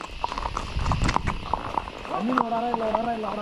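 A horse's hooves clip-clop steadily along a private plantation trail at Rajappara, with people talking nearby and a brief tonal call near the end.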